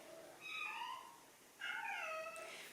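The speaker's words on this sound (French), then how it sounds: "J'espère que le chat va pas faire que miauler" A cat meows twice, each call a drawn-out, wavering cry, the second longer and louder, heard close against a quiet room background.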